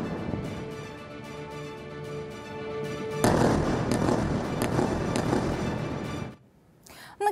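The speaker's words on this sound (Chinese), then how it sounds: "凌晨加萨是不断的有空袭的爆炸声" Airstrike explosions over Gaza at dawn: a low, steady rumble swells into about three seconds of loud, dense, crackling blast noise, then cuts off to near quiet.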